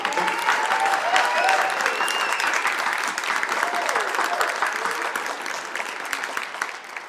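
At a high school commencement, the audience gives a sustained round of applause for a retiring staff member, dense steady clapping from a large crowd that slowly tapers, with faint voices mixed in.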